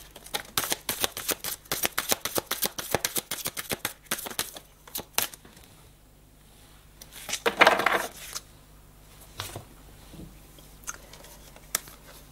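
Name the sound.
handling and dealing cards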